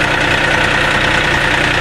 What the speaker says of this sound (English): I love driving a tractor.